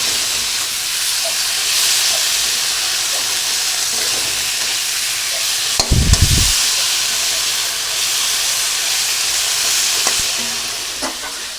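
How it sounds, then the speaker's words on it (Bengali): Potatoes and spices fry in oil in a pan, a steady close sizzle and hiss with a brief louder stirring scrape midway. "মশলা দিয়ে ভালো করে আলু দিয়ে কষিয়ে নিব।"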